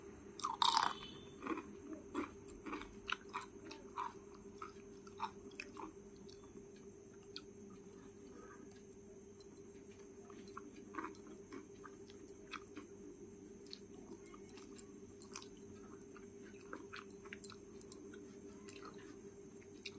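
Close, crisp crunching of hot fried bora fritters and papad being eaten quickly, with irregular bites and chews over a steady background hum, no talking.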